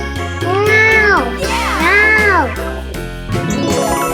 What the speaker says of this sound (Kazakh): Бұл мысық. Мяу.